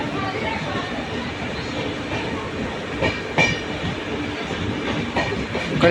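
Interior of a superfast express train running from Mysore to Bangalore: a steady rumbling roar of wheels and carriage with faint rhythmic clatter, while a voice talks over it.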